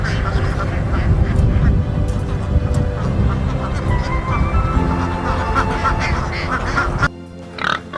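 Ducks quack and honk loudly and close at hand in a dense, overlapping chorus, with nasal calls repeating over a busy farmyard backdrop before a brief quieter stretch at the end.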